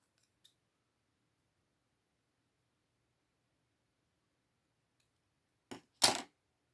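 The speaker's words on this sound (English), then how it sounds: "Just going to cut that stem down a bit" Two quick, crisp snips of scissors trimming a flower stem for a papercraft project, arriving close together near the end after a long quiet stretch with only a tiny click early on.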